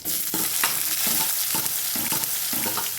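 Onions and spices tempering in hot oil for an egg curry give off a loud, steady sizzle, with stirring scrapes about every half second throughout.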